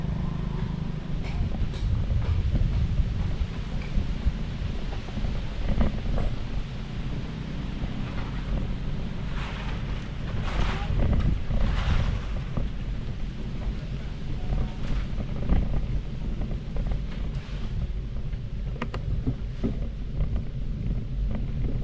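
Strong natural spring water rushing steadily near a wet roadside in Paete, a continuous broadband flow with people talking over it now and then.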